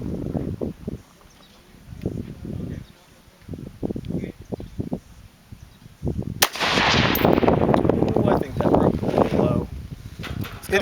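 A rifle fires once while shooting offhand: a loud, sharp crack near the middle, followed by a lingering rush of noise, with people talking before the shot.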